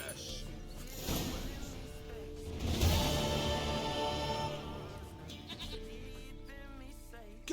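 Goat bleating in a video game, several wavering bleats over music and busy game sounds, fairly loud and close.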